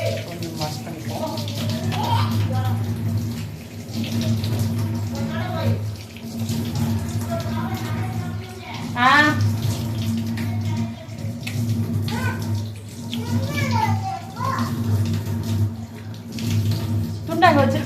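Tap water runs steadily into a sink during face washing at home, a close, continuous splashing stream that surges at times while someone talks over it.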